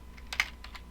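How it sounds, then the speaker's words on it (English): Typing on a computer keyboard while working in SPSS statistics software, a short burst of a few close, crisp key clicks in quick succession, heard alone without talk. "so you don't have to keep typing if you don't want to keep typing"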